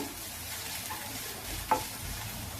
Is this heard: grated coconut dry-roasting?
yes